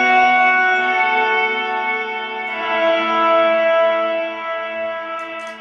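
Pad reverb pedal at 100% mix on an ambient pedalboard, producing a sustained, shimmering wash of layered tones that swells and fades gently, loud and alone.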